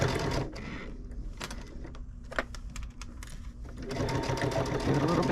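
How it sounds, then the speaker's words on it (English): A sewing machine runs steadily while stitching binding onto a shopper tote, a brief pause mid-run before the motor hums loudly again, with a voice speaking over parts of it. "then I'm going to sew up to my needle."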